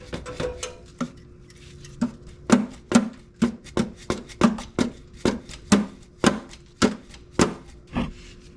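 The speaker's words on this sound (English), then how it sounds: "we'll give it a tap to loosen it" A metal engine part on a Jeep Cherokee XJ, during an oil pump and rear main seal job, gets struck repeatedly to break it loose: about fifteen sharp, close knocks in a fairly steady rhythm, growing firmer after a few lighter opening taps.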